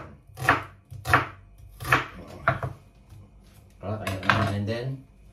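A knife chopping onion on a cutting board in a home kitchen, heard as a few distinct heavy chops followed by a quicker burst of cutting, close up and with no talk.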